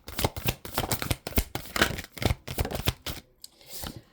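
Oracle cards shuffled by hand for a tarot-style reading, a run of quick papery riffles and slaps in uneven bursts, close and fairly soft, trailing off into quiet near the end.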